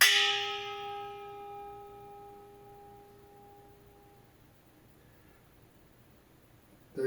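A household gong-like object with a center-focused handle is struck once hard, giving a bright clanging attack that rings out with sustained tones and slowly decays over several seconds, followed by a faint rustle at the end.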